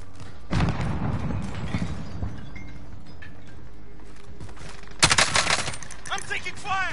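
Gunfire in a video game shootout: a short rattling burst near the start, then quiet, then a louder, sharper volley of rapid shots later on, fairly close.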